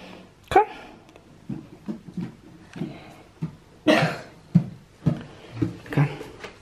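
A person with a cold coughs in a home setting, with a few sharp coughs and throat-clearing bursts scattered between quiet voices nearby.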